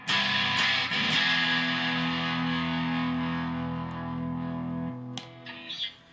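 A Fender American Professional II Jazzmaster through pedals and a 1968 Twin Reverb Custom tube amp rings out with sustained, distorted, saturated chords and warm effects, fading and ending with a few lighter plucked notes.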